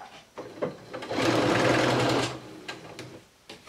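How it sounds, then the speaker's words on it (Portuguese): A sewing machine stitches a fabric border onto a round towel, running in one steady whirring burst of about a second and a half, bracketed by softer handling clicks and thumps, no voices. "você pode vir costurar tranquilamente"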